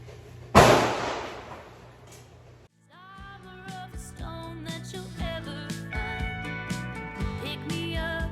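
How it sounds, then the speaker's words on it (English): A single sharp gunshot cracks from nearby target practice and fades with a long decay, followed by quieter, tonal ringing sounds. "Sorry, target practice is happening."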